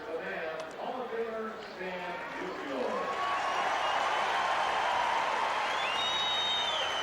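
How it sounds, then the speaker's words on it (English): A baseball stadium crowd at a 1992 legends game applauds Hall of Famer Stan Musial, a broad roar of clapping and cheering swelling and holding steady while an announcer talks over the start. "He's going to get a big round of applause here tonight"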